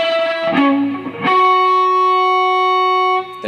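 Distorted electric guitar plays a phrase of a song's solo, a few bent, sustained notes with a rich harmonic buzz, close and loud, ending on a long held note that fades out.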